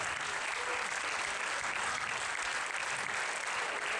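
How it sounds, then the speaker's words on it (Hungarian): Steady encouraging applause from an audience at a Vivat Bacchus show, a dense wash of clapping that stays even and fairly close for the whole stretch with no pauses. "Bátorító tapsot kérünk szépen."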